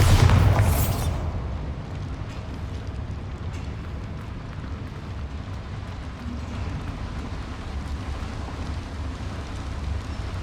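The Bombarda blasting spell detonates inside a small mine in Hogwarts Legacy: one loud, close explosion at the start, then a long rumbling tail of settling debris.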